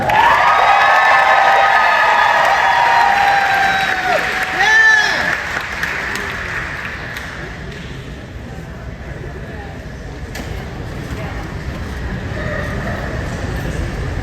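Crowd applause and cheering at a Sonic cosplay competition, loud at first with whoops over it, then tapering to a softer, thinning patter of clapping that lingers to the end.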